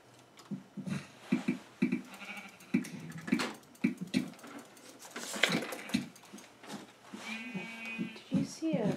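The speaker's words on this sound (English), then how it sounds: "Here we got 3 sheep." Sheep bleat in a Minecraft mini game, several short blocky bleats repeating over steady game sounds while a player talks over them throughout.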